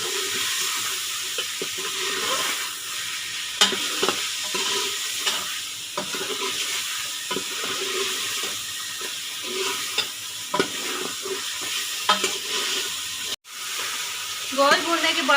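Masala with tomatoes, turmeric, salt and red chilli sizzles in a pan with meat for kaddu gosht, under steady close frying hiss and repeated scraping stirs throughout.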